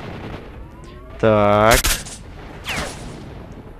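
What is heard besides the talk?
sniper rifle gunshots in a video game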